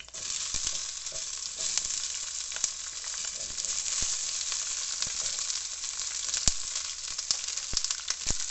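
Onion, garlic and tomatoes frying in a hot pot for pozole verde, giving a steady close sizzle and crackle with occasional pops, no voices.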